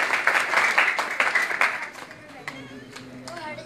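An audience claps for Bhagwat Devi at a Bhagwatam gathering in Govindpuri, Delhi, a burst of brisk hand claps that thins out after a couple of seconds, leaving scattered claps and a low voice.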